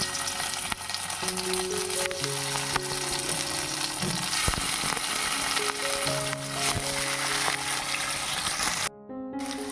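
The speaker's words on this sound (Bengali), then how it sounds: "এই তেলেই আমি পনিরগুলো ভেজে নেব" Paneer fries in oil in a pan with a steady, loud crackling sizzle that continues throughout, with faint background music, ending abruptly near the end.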